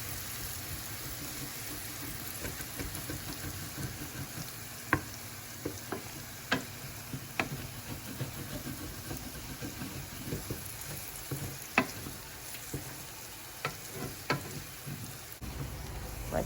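Food sizzles in a seasoned skillet while being stirred, a soft continuous frying crackle punctuated by irregular sharp scrapes and taps of the utensil, close by with no talking.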